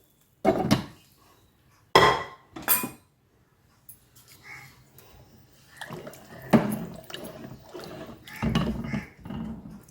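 Cooked lentils with their water poured off are churned with a wooden churner in a home kitchen, giving several sharp knocking and scraping bursts, then softer, irregular swishing and mashing sounds at close range, with no talk.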